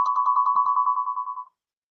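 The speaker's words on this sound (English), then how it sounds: "Somebody's calling me." An electronic phone ringtone plays loud and close as a call comes in. It sounds as a fast, steady pulsing tone for about a second and a half, then cuts off.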